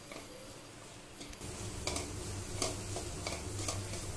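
Onion, green chili, ginger and soft peas fry together for a potato filling, giving a quiet sizzle with repeated scraping and tapping of a spoon against the pan at a moderate pace.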